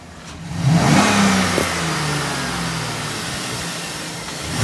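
LS V8 engine, recently repaired after a stuck lifter, revs up sharply to a loud, smooth roar and then settles back into a steady, even idle.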